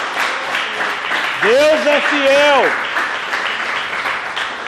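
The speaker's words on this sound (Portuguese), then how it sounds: "Pode aplaudir ao Senhor?" Church congregation applauding steadily throughout, a dense wash of clapping with a preacher's voice speaking over it.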